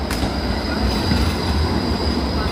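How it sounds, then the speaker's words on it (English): A city tram passes close by on a street, its wheels squealing over a loud, continuous rumble of rolling on the rails. "Can I cross the street before the tram gets here?"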